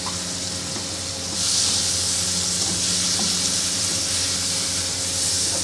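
Tomatoes and green chili dropped into a hot pan for brinjal bharta, a steady loud sizzle and hiss that swells after the first second and holds evenly, with no talk.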